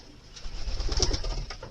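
Racing pigeons coo inside a loft, soft throaty rolling calls rising and falling, several birds close by with a low murmur of wings and shuffling underneath.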